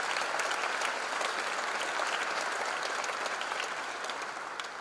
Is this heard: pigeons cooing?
no